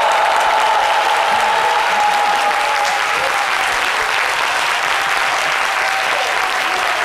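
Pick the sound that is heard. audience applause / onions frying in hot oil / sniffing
audience applause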